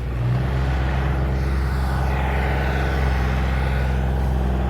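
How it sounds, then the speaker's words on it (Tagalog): A tractor churns through a flooded rice paddy being prepared for planting, its engine a close, steady, loud rumble with a rough throbbing texture and no voices over it. "Traktora."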